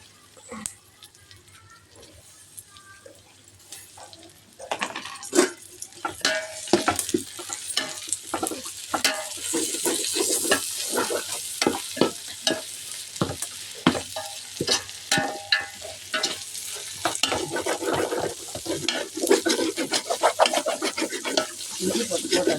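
Mint leaves hit hot oil in a pot of chicken biryani. After a quiet opening they sizzle steadily, broken by frequent sharp clinks and scrapes of a stirring spoon against the pot.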